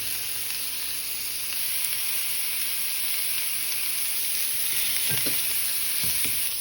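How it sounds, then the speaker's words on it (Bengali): Meatballs fry in a pan on a stovetop burner with a loud, steady sizzle throughout, and a few utensil knocks come near the end. "আমি আজকে চুলোই ভাজছি"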